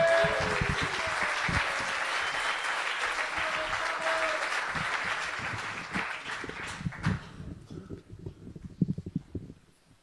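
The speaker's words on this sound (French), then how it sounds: "faites un tonnerre d'applaudissements pour une poétesse" A warm burst of audience applause greets a poet at a poetry night, loud at first and then thinning out into a few scattered claps and small noises as it dies away.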